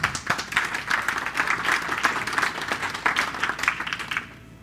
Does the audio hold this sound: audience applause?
yes